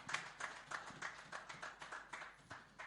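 A church congregation claps in a steady rhythm, about two claps per second, with moderate loudness and a roomy echo.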